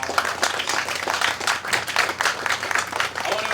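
Applause for city staff at a groundbreaking ceremony for 150 W. Second Street: a steady, dense crowd clapping that holds at an even level for several seconds with no pauses.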